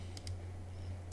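A few soft clicks of a computer keyboard as a search is typed, sparse and quiet over a low steady hum, with no voices.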